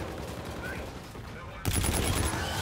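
Gunfire from a first-person shooter video game erupts after a quiet stretch, a rapid string of loud, sharp shots continuing to the end.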